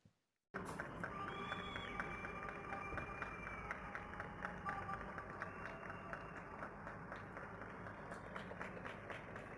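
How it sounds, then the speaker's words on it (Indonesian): Residents applaud from their homes at 9 p.m. for medical workers and the government in Turkey during COVID-19, a continuous patter of many distant hands clapping, steady throughout after a brief silent start. "Setiap hari jam 9 malam, jadi mereka tepuk tangan buat tenaga medis dan pemerintah sini."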